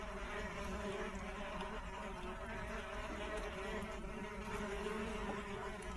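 Steady, continuous buzzing of many newly emerging bees in a garden, close and fairly loud, humming without pause throughout.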